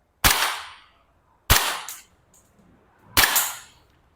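Three sharp shots from an Umarex VFC HK VP9 Deluxe gas BB pistol fired at a target range, evenly spaced about a second and a half apart, loud and close, each with a quick fading tail.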